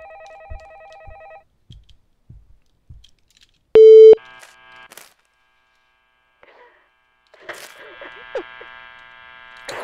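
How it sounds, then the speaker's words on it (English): Phone in the horror video game Shadow of Pharos activating, with a steady electronic tone bursting out loud for a moment among sparse clicks and beeps, followed by a low buzzing hum. "Alright, so the phone activates."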